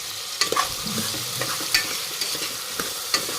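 Chopped vegetables with salt for a vegetable pulao being stirred in a hot pan: a steady sizzle and frying hiss, broken by sharp scrapes and clinks of the spoon against the pan at irregular intervals, with no voices.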